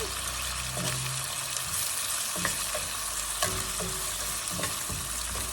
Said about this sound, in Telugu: ఈ నూనెలో ఇది కూడా ఒక నలుసు వేగితే బాగుంటుంది